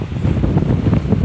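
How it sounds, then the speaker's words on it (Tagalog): Strong wind buffeting the microphone on a high mountain road near the clouds, a loud continuous low rumble with gusty surges and no talking. "Isang hangin dito sa taas."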